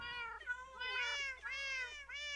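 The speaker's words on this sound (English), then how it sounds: "the meowing alone would probably drive me crazy" A Minecraft cat meows loudly and repeatedly, about four plaintive meows in quick succession with no other sound around them.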